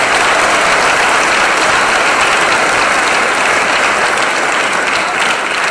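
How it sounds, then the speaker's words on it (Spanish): Sustained audience applause at a political talk in Bolivia, a dense, steady wash of clapping filling the room from start to finish, loud and unbroken. "Merece un aplauso, claro que merece un aplauso, por supuesto."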